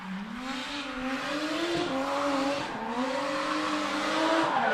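A drift car slides around a street track with its front tire smoking, engine droning and tires squealing in a long wavering wail that rises and falls steadily throughout.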